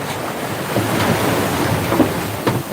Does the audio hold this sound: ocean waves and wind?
yes